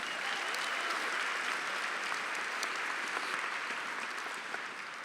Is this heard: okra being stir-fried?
no